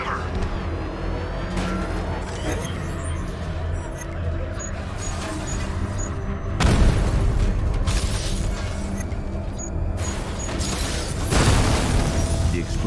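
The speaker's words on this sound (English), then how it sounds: "The explosion disabled the main cannon." Explosions boom during a tank battle boss fight in Batman: Arkham Knight, with heavy blasts around the middle and end over constant rumbling game mechanisms and engine noise, with some voices.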